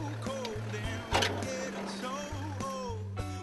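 Rod's 100 Series Land Cruiser drives off-road with a steady engine hum that shifts in pitch, under clunks and bumps from the rough track and voices talking inside the cabin.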